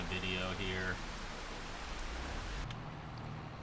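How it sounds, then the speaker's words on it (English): Steady rain falling in the farming game Farming Simulator 25, a broad even hiss of drops filling the whole stretch, with a voice speaking briefly over it at the start. "I hope the rain stops soon."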